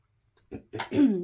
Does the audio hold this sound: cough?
yes